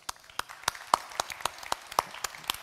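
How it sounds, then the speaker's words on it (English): A small conference audience applauds a blockchain panel, sparse distinct hand claps at an irregular rhythm, moderately close, with no talk over them. "a round of applause for my awesome panel"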